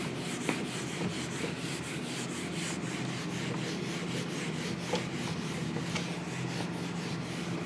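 A classroom board is rubbed clean during a maths lesson: steady scrubbing strokes, close and continuous, a soft swishing rhythm with no talk.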